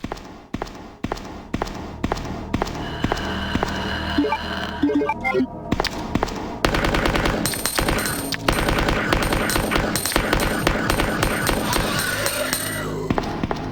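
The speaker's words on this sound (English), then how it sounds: "every time a Licker takes a hit from the submachine gun, it's a stun" Rapid bursts of submachine gun fire in a survival-horror video game, close and loud, with repeated sharp volleys and a denser stretch of continuous shooting over game sounds.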